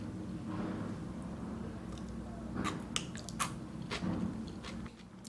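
Biting into a raw sea bean (salicornia), a salty, crisp sea asparagus stem, gives a few close, quiet crunches and soft chewing, scattered over a low background hum.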